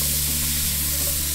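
Carrots, celery and onion fry in rendered fat in a pan, giving a loud, continuous close sizzle and hiss with no talk.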